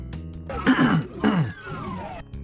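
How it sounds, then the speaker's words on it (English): A person nearby coughs and clears their throat in two harsh, rasping bursts, then a softer follow-up, with no talk over it. "I'm sorry about all the coughing."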